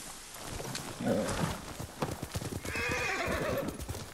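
Rhythmic hoofbeats of a galloping horse in the video game Ghost of Tsushima clip-clop steadily along a coast, with a horse neighing loudly partway through, against a faint outdoor background.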